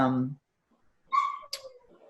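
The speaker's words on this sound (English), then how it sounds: "My dog's barking now" A dog barks indoors in a home, with a voice at the start and a few short, mid-loud barks or yips after a brief pause.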